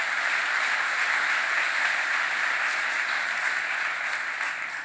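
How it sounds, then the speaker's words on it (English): A large crowd gives a steady round of applause at a governor's announcement of construction on Delta's new facility, dense and continuous throughout and easing slightly at the end, with no voices over it. "Let's give him a round of applause."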